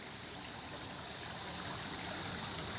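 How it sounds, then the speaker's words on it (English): Frog Creek flows strongly below a high bank, a steady, faint rush of water with no other sounds. "way down there you can see all the water flowing strongly"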